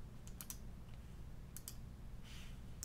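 A computer mouse clicks a few quiet, sparse times while working in Joomla, each click short and faint against a soft background hiss.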